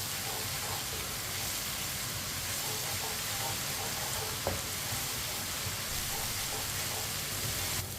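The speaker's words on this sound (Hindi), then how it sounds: "अब इसे 2 मिनट के लिए पका लेंगे अदरक और लहसुन को।" Crushed ginger and garlic fry in a pan, giving a steady, dense sizzle with soft hiss that holds at an even level throughout, with only a faint click partway through.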